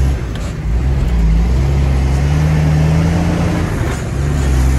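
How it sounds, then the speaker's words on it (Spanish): A truck engine labors uphill in third gear on a mountain road, a loud, steady low drone that rises slightly as it pulls hard, heard from inside the cab with no talking. "Tercera, vamos a subir la tercera para que suba forzadito el carro."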